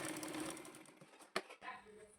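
A sewing machine runs briefly and close while double-stitching a blouse seam, a rough whir broken by a sharp click near the middle and then easing off.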